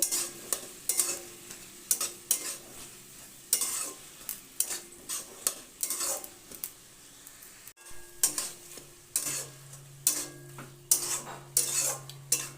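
Cooked ash gourd being stirred in a pan with a utensil, giving repeated scraping strokes at a steady rhythm over a low sizzle, close and moderately loud, with no talking.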